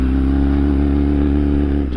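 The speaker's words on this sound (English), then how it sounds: "She's slowly gonna give it throttle and then let go of the clutch." A motorcycle engine pulls under gentle throttle as the clutch is let out by a beginner rider, a steady, close, loud engine tone with a low pulsing rumble that holds for two seconds, with no talk.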